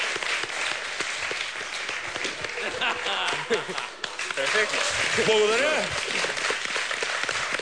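An audience at a Bulgarian biketrial show applauds steadily throughout, with someone talking over the clapping.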